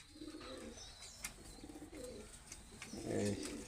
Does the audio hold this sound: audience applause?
no